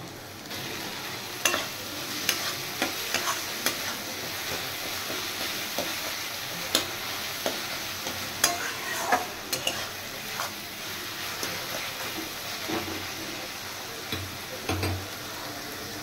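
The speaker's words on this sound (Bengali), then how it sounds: "এবার এটা ভালো করে ফ্রাই করে নামিয়ে নেব।" Garlic, ginger and prawn paste frying in hot oil, a steady sizzle with frequent sharp utensil scrapes and clicks against the pan, close up.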